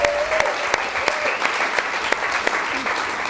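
An audience at a Pecha Kucha night at betelNut in Ubud, Bali gives a round of applause, with crisp individual claps standing out from the crowd and a voice faintly audible underneath.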